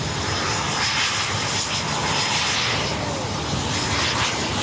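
A large jet airliner on runway 16 right at Sydney Airport gives a loud, steady engine roar with a faint high whine running through it, close and continuous throughout.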